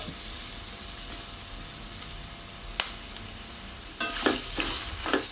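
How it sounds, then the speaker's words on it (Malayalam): Tamarind pieces fry in oil for a chutney, a steady close sizzle running throughout, with a sharp click near the middle and two louder bursts of stirring and spattering toward the end. "പുളി ചെറിയ ചെറിയ കഷ്ണാക്കിയിട്ട് നമ്മൾ ഓയിലിൽ തന്നെ നന്നായിട്ട് അതും വയറ്റിയെടുക്കണം"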